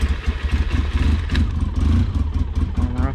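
A quad ATV engine, one of a Yamaha and Polaris pair out in the snow, starts and revs up close with a rough, throbbing burble that rises and falls through short bursts of throttle.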